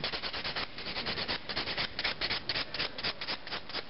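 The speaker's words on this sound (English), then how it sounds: "So filing nicely around our cuticle area so that we're not going to cut our skin." A nail file scrapes acrylic nails around the cuticle in quick, steady back-and-forth strokes, close and continuous, with no talking.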